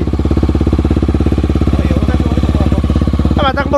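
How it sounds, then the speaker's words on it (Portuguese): A Honda XRE motorcycle engine with a 340cc build idles close by with a steady, rapid thumping rhythm and a brief higher rattle near the end. "mas tá com barulho de motor original?"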